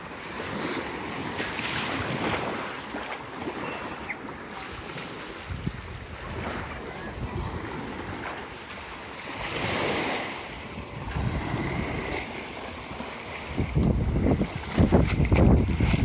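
Ocean waves wash onto a beach in broad, rolling surges, with wind buffeting the microphone throughout and a louder, closer rush of surf building near the end; no voices.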